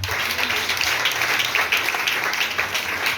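Congregation at a Sunday church service claps continuously, a dense moderate wash of many hands with no one speaking over it.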